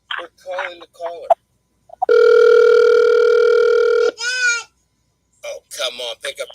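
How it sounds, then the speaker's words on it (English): An outgoing telephone call gives one long, steady ringing tone of about two seconds, with someone talking before and after it. "Oh, come on, pick up the phone."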